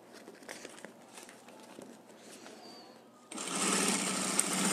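A sewing machine starts up after a stretch of quiet handling noise and runs a steady finishing stitch, its buzzing motor holding even and close through the last second and a half.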